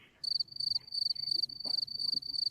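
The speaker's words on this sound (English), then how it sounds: "was that the crickets?" Crickets chirp in regular, evenly spaced high pulses that keep going for the whole stretch, with faint, quiet room sounds underneath.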